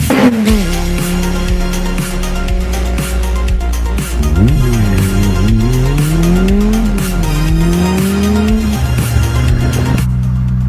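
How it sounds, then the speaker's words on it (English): 1997 Chevy S10 pickup truck with a newly swapped engine and fresh clutch driving, a loud, close engine note that climbs and falls in pitch through gear changes, with a tire-like squealing tone over the steady road rumble. "My 1997 Chevy S10 seems to be running beautifully. Let's go take her for a quick drive."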